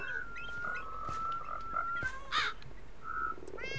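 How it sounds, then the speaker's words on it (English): Many frogs croak in a video game forest setting, with a steady high-pitched chorus of trills running throughout, a brief louder gobbling call near the middle, and faint background ambience, no talking. "Look at all the frogs."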